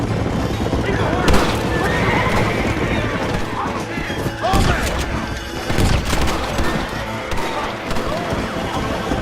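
Horses in the Red Dead Redemption video game neigh and gallop amid loud continuous action noise, crashes and gunfire-like bursts, with voices over the top.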